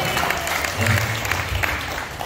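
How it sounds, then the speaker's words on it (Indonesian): Audience applause at an Indonesian Tai Chi and Ling Tien Kung testimonial gathering, a steady patter of clapping from a small crowd lasting about two seconds, with some voice mixed in. "Tepuk tangan buat Pak Soleh."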